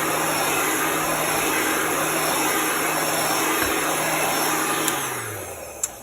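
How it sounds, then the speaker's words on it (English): A heat gun blows a steady broadband rush of air while drying chalk paste on a craft piece, loud and constant throughout, its motor tone dropping slightly as it winds down near the end. "I'm going to dry our giraffe since we are right here with the heat gun."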